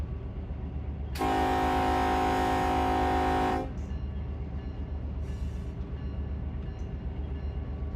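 A locomotive horn blares for about two and a half seconds as a train throttles up to notch 6 in Run 8 Train Simulator, sounding over a steady low engine rumble, with faint brief tones afterward.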